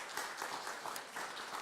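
A church congregation at a New Year blessing service claps together in a brief, faint round of applause with a steady patter of many hands.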